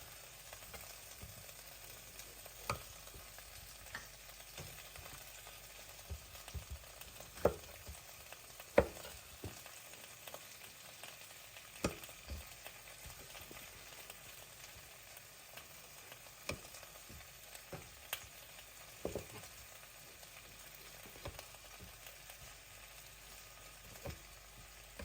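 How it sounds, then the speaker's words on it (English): Onions frying fast in a pan with wine poured over them give a faint, steady sizzle, broken by scattered stirring clicks and scrapes that come and go alone. "once you roast the onions really fast, you put the wine on top and everything gets loose"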